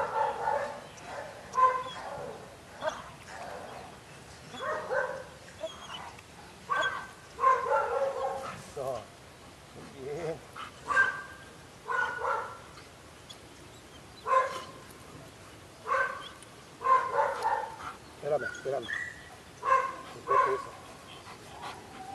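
A dog barks repeatedly in short bursts with some yips and whimpers during guard and protection training, close by, with quiet Spanish voices in between.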